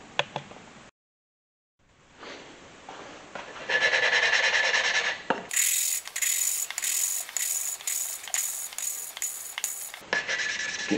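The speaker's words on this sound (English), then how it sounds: "This is grinding away a lot better than the intake valve. Completely different sound." Engine exhaust valve being lapped against its valve seat, a steady rhythmic rasping and scraping close up, growing into rapid repeated bright strokes with brief pauses, no talk.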